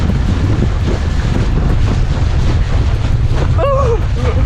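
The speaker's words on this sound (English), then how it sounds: "I'm going into the wind." Strong wind roars across the microphone while riding a homemade electric surfboard at about 10 miles per hour heading into the wind. The constant, loud buffeting masks other sound, and a brief tonal whine rises near the end.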